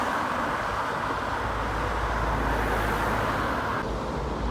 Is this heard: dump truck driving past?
yes